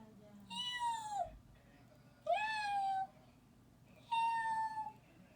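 A person imitates a cat's bleat, like a kitten meowing for its mother, with three drawn-out, nasal meow calls separated by short pauses, close and moderately loud.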